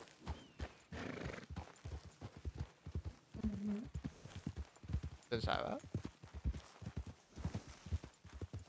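A horse in a Western roleplay video game clip-clops along and whinnies clearly, with hoofbeats running throughout under someone talking in Spanish.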